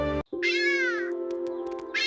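A single drawn-out cat meow, clear and close, rising then falling over about a second, followed by quiet and the start of another meow.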